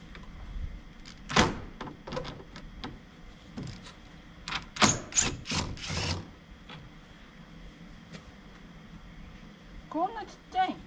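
Aluminium sash door being taken off its frame, with a scatter of clunks, knocks and scraping handling noises, loud near bursts around the middle, while people talk intermittently nearby.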